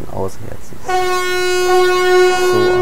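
Typhon air horn of a Ludmilla diesel locomotive in Train Simulator 2019, sounding one loud sustained blast that starts abruptly and holds steady for about two seconds, with speech just before and after it.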